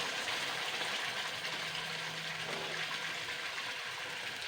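Water runs over a mixer grinder jar being rinsed, a steady rushing gush that holds evenly throughout with no talking.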